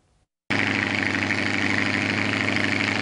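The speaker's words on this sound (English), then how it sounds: "Rev up your engines." Truck engines idle at a mud bog competition in Lisbon, a steady loud rumble with a broad low drone that starts abruptly after a brief quiet moment and holds constant.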